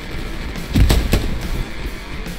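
Gunfire in the World War II shooter Hell Let Loose: two sharp, loud shots close together near the middle, over a low background rumble.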